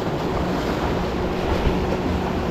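Strong ocean waves rolling in at a shore during a land-based fishing trip, a steady loud broadband wash of surf with wind buffeting the microphone throughout.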